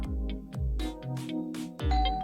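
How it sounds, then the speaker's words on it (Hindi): An indoor doorbell chimes ding-dong several times in quick succession, loud and close, each ring sounding over the fading tail of the one before. "जिंदगी में पहली बार इतना मजा आ रहा है डोरबेल बजने से।"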